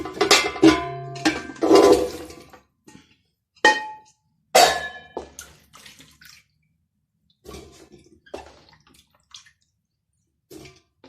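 Metal cooking pots clatter and clank as one is swapped for a bigger pot, heard as several sharp knocks and ringing bumps with water sloshing and dripping between them, close and fairly loud, followed by quieter scattered handling sounds.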